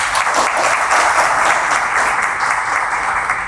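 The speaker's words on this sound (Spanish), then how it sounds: "Ignacio Pascual Camacho Hidalgo, con sus aplausos." An audience applauds steadily at a formal legal ceremony honoring the president of the Superior Electoral Court, a dense, sustained wash of clapping with no voices over it.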